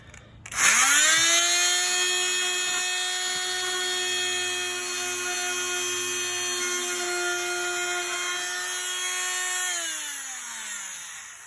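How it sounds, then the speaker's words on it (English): A Bosch oscillating multi-tool spins up sharply and holds a loud, steady high-pitched whine while taking the burr off a plastic tank edge, then winds down near the end. "So this is how I use my multi-tool. As you can see, it's just a Bosch multi-tool."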